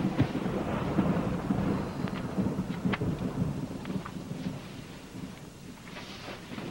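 A thunderstorm rolls on with deep, sustained thunder rumbling loudly at first, then easing, while rain patters steadily beneath it and a few sharp crackles stand out.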